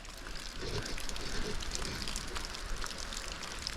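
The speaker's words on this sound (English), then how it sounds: "we're getting a pretty good little rain" Steady rain falls outside near a shop, a dense, even patter and hiss of drops on surfaces, close and continuous.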